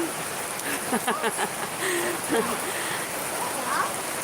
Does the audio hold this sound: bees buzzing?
no